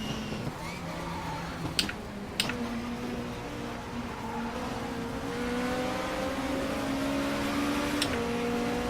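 A race car engine drones and revs in the Race 07 video game at Brands Hatch, a sustained tonal whine rising and shifting in pitch across several seconds, with a couple of sharp clicks early on.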